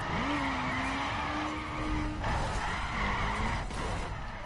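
Tires skidding as a car drifts in The Crew video game, a loud sustained squeal over a roaring engine, then a second shorter screech after a brief pause, with no talk.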